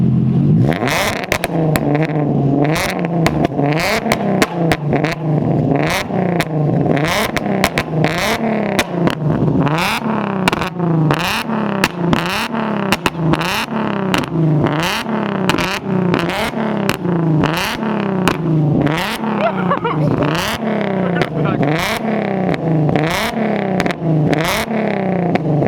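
A fabricated single-exit exhaust on an Infiniti Q50 with the 3.7L engine, revved repeatedly in loud, close, rhythmic blips that rise and fall steadily with no talk over them.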